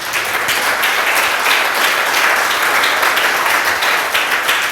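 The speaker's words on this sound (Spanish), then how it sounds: "Denle un aplauso al Señor, hermano." Applause from a Spanish-speaking church congregation during a sermon, loud and sustained with many hands clapping in a thick, even roar that holds steady throughout.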